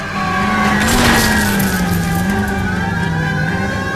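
A car chase in the video game L.A. Noire: a steady engine drone with a wavering pitch and a brief swell of tire noise, loud and continuous with no speech.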